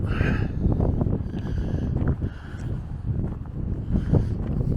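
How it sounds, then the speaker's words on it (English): Coastal wind at the southern tip of Australia, steady broadband rushing and buffeting against the microphone, fairly loud and continuous with gusty swells throughout, no talking. "And you feel the wind getting up."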